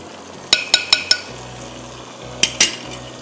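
Marinated beef pasanda and red chili powder go into a pan with browning almonds and fry with a low sizzle, while a spoon or utensil clinks sharply against the pan in two quick bursts.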